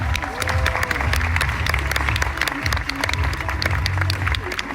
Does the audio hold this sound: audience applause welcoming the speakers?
yes